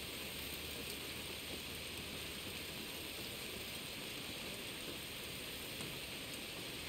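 Steady rain falls across a night scene in the samurai-era game Like A Dragon: Ishin, a constant soft hiss of drops on surfaces with no voices, even and unbroken throughout.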